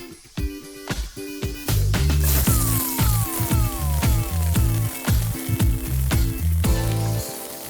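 Dumplings frying in hot oil in a stainless steel skillet give a loud, continuous close-up sizzle with crackling spatter throughout.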